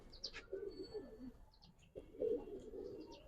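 Giribaz pigeons coo in soft, rounded phrases at close range, two separate bursts of cooing with brief gaps between them, while faint higher chirps flicker in the background.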